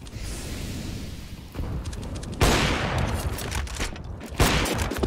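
Bursts of Counter-Strike gunfire on the Nuke map crackle in short volleys, with a louder salvo midway and another near the end over a steady background din.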